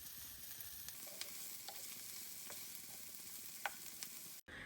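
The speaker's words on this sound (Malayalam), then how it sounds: "ആ ഇഞ്ചി വെളുത്തുള്ളി ചതച്ചതിൻ്റെ ഒരു പച്ചമണം മാറുന്നത് വരെ ഇതൊന്ന് വഴറ്റിയെടുക്കുക" Onion, ginger, garlic and capsicum sautéing in a pan, giving a steady, fairly faint sizzle with a few light stirring clicks, before a sudden brief cut near the end; no voices.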